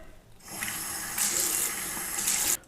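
Water from a tap splashes steadily into a sink as soap from an automatic dispenser is rinsed off hands, a close, continuous hiss with slight surges.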